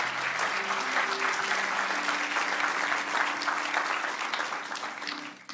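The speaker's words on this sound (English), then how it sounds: "Let's give the Lord a clap offering." A church congregation gives sustained applause during a sermon, a full, even roar of many hands with sustained musical tones underneath, tapering off toward the end.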